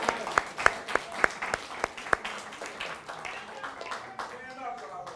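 An audience at a New York Browning Society gathering applauds a newly announced vice president, starting with a few distinct nearby claps that build into a fuller patter, with a voice briefly heard near the end.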